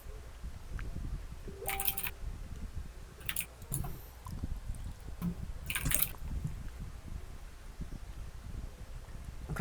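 Water in a warm computer lab makes a few separate splashy drips, each brief, set against a low room rumble, with no speech.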